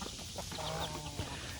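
Chickens cluck softly in the morning, with a few scattered, fairly faint calls over a steady outdoor background hum.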